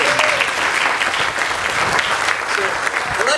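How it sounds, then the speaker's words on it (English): An audience gives a loud, dense round of applause that holds steady for several seconds as one continuous wash of clapping. "You should give yourselves a round of applause"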